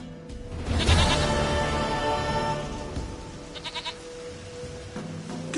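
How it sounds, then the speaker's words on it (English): Goat bleating in The Witcher 3, a loud wavering bleat up close followed by a few shorter, fainter bleats, with game ambience behind. "Goat of mine, dearest, sweetest goat."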